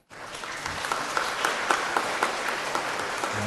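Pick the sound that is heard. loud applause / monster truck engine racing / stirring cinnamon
loud applause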